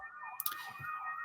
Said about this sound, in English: I apologize for the sirens going outside.